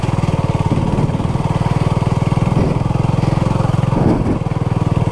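A Honda CB250RS single-cylinder motorcycle revs hard as its rear wheel spins on a muddy green lane, with a loud, close, steady thumping exhaust throughout.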